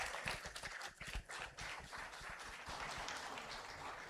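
An audience at a food entrepreneurs' conclave applauds after a speech: a quiet, distant patter of many hands clapping, irregular and sustained throughout.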